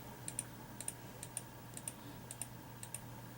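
Mouse clicks placing points along the arch in Rayscan dental imaging software, a series of soft, close, sharp double clicks in pairs over a faint steady hum, no speech.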